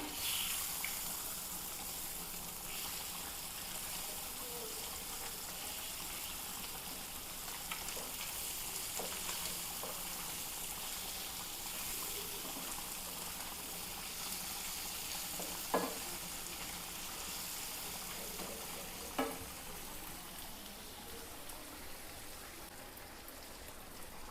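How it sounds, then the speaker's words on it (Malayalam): Fish frying in a pan with curry leaves about to be added, a steady soft sizzle running throughout with a couple of sharp pops, no voices. "നമ്മുടെ മീൻ വറുത്തത് റെഡി ആയിക്കൊണ്ടിരിക്കുന്നതാണ്"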